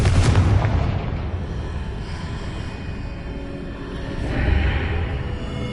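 A Confringo spell explosion in Hogwarts Legacy: a loud booming blast at the start that decays into a rumbling tail, with a second swelling burst near the end.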